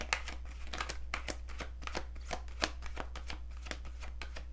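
Tarot cards riffled in a steady run of crisp, rapid flicks and slaps, each burst sharp and close, continuing without pause over a faint low hum and no talking.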